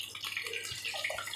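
Water poured steadily into a pan while cooking chicken gola kabab, a soft continuous splashing and trickle heard close and fairly quiet, with no talking over it.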